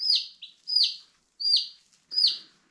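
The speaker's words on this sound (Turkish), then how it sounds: "Bıldırcınlar çünkü bağırmaya başladılar." Quails calling for feed, four sharp, loud, evenly spaced calls repeating close by in a steady rhythm, with no voices.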